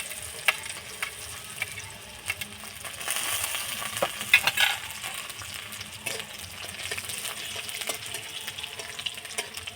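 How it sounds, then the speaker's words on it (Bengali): Chopped garlic frying in mustard oil, a continuous close crackling sizzle with occasional stirring scrapes and a faint watery hiss underneath, no voices. "রসুন আমার যে লাল লাল করে ভাজা হয়ে গিয়েছে"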